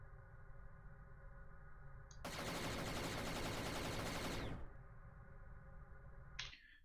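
Turrets fire in a space combat video game built in Godot with a Star Destroyer enemy, a dense, loud burst of rapid shots lasting about two seconds over a steady hum, with no talking.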